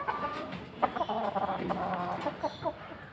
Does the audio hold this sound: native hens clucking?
yes